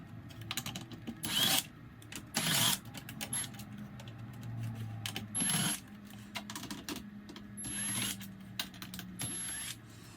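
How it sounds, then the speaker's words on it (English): Small screws being backed out of the underside of a DDJ REV7 DJ controller during a liquid-damage repair, giving scattered clicks and ratcheting driver taps with a few louder clattery bursts of parts being handled close by. "So I also like to remove the back screws."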